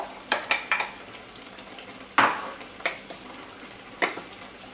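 Beans tumble into meat frying in a pan for burritos, followed by a few separate scraping stirs and clinks over a quiet sizzle, near and distinct.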